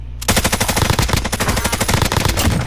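Loud, close automatic gunfire from Call of Duty Warzone on the Rebirth map, a rapid unbroken burst of shots lasting a couple of seconds.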